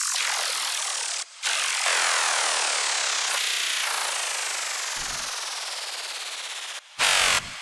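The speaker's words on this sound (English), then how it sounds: "And also a pitch shifter, frequency shifter." A dubstep synth tone runs through a pitch shifter and frequency shifter, producing loud, dense, continuously sweeping metallic harmonics that glide downward, broken by a few abrupt cuts and gated bursts.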